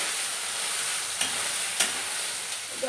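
Soya chunks tipped into a pan of fried potatoes and stirred, a steady hiss of frying with a few soft scraping clinks of the spoon against the pan, close and continuous, no talking.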